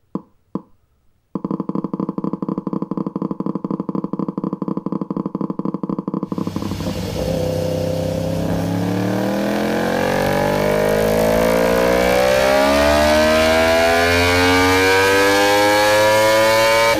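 A synthesized approximation of a crossplane engine, loud and close: a pulsing buzz at steady revs that climbs into a rising, revving wail with sweeping tones.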